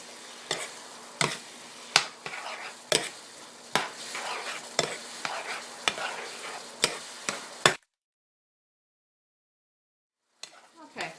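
Apple pie filling thickened with a teaspoon of cornstarch is stirred in a pan, giving repeated scraping strokes roughly every second under a steady low sizzle, then a pause of near silence before faint stirring resumes.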